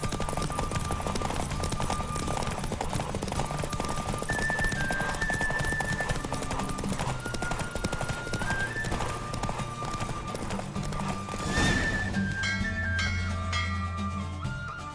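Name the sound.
horse galloping hooves, from a video game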